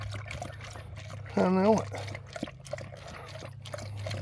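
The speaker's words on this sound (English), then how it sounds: "Oh yeah, she is thirsty. Drink it up, baby girl." A dog laps cold water from a bowl, with soft wet splashing and trickling up close, while a person talks over it and a brief whining or squeaky sound rises in the middle.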